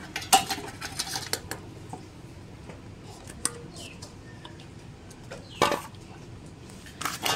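Lentil paste, chopped onion, green chili and ginger-garlic paste being mixed together in a bowl, with scattered light clicks and clatters of utensil against dish over a quiet kitchen background, no talking.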